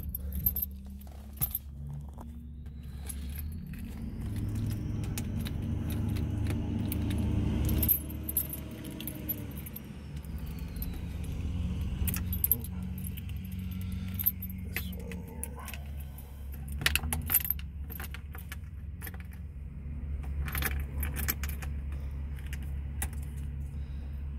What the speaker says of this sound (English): So let me put this key in here and I'll start it for you.